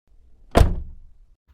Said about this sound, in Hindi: अपना जो मेन कैरेक्टर है यानी कि डामी का डैड, वो उसको धक्का मार के पीछे दरवाजे को लॉक कर देता है।